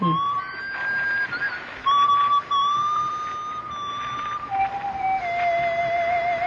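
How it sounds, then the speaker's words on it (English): A man whistles a slow, wandering tune, alone and fairly clear, with long sustained notes that slide between pitches and no talking. "It was a man's whistling."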